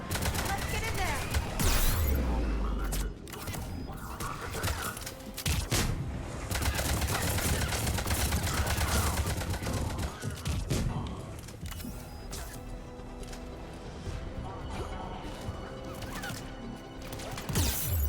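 Gunfire crackles around a checkpoint in Mass Effect 3, with bursts of shots over a busy battle din and voices talking at times throughout.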